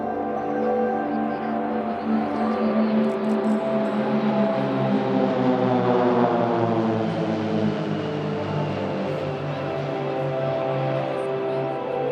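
Pilatus PC-7 propeller aircraft flying in formation at an airshow, a loud sustained propeller drone whose pitch sweeps up and then down as the planes pass overhead.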